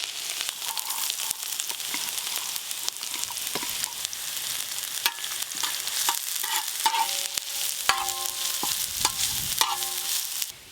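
Chopped carrots sizzle in hot oil with garlic and green chili while a spoon stirs and scrapes the pan, a steady close fry with intermittent clinks of utensil against metal.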